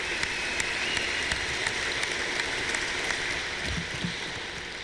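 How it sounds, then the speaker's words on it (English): A community crowd at an Air Force base event in Little Rock, Arkansas, applauds in a steady, dense patter of many hands, sustained for several seconds at moderate distance. "we owe our wonderful community another round of applause and appreciation."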